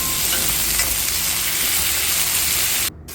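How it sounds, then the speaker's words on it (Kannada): Tomatoes frying in a pan for a bendekayi (okra) palya, a loud, steady sizzle that continues without a break and cuts off abruptly near the end, with no voices. "ಇದರ ಒಂದು 3ರಿಂದ 4 ನಿಮಿಷ ಅಷ್ಟು ಫ್ರೈ ಮಾಡ್ಕೊಳ್ಳಿ."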